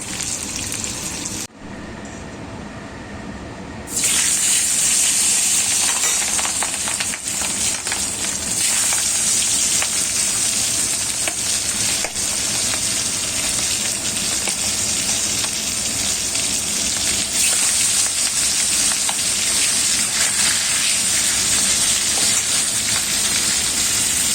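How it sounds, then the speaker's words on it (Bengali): Tengra fish frying in oil, a loud continuous hiss and crackle that surges sharply after a brief quieter start and stays strong throughout, no voices. "মাছটা ভাজি, ট্যাংরা মাছ তো ভয় লাগে"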